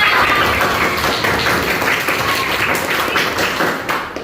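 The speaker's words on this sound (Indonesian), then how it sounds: "Tepuk tangan buat kita semua." A classroom group claps together, a busy patter of hand claps at close range that stays fairly even before tapering off slightly at the end.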